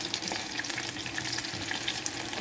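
Jamaican saltfish fritters made with curry powder fry in a pan of hot oil, giving a dense, continuous close sizzle and crackle throughout, with no voices.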